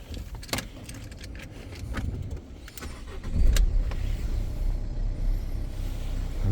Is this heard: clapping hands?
no